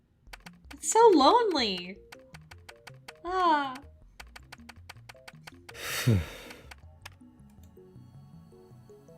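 Keyboard typing in the Steins;Gate video game: rapid, evenly spaced key clicks run through the whole stretch, with a character speaking and exclaiming briefly over the clatter.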